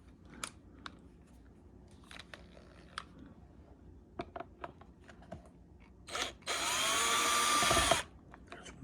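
A screw is backed out of a cable guide with a short burst of a small power driver after several quiet clicks and handling taps. The whir is close and lasts about two seconds.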